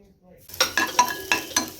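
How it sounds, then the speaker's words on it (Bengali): Potatoes and cauliflower fry in a home kitchen pan with nigella seeds and green chilli, a series of sharp stirring scrapes and clatters over a steady sizzle, close and fairly loud after a quiet start. "এখানে কালো জিরে কাঁচা লঙ্কা দিয়ে আলু ফুলকপি ভাজা হচ্ছে"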